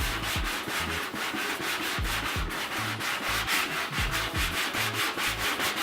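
Fine grit sandpaper rubbed by hand across a dirt bike surface in steady back-and-forth strokes, a close, even, raspy scratching repeated at a quick rhythm with no talking.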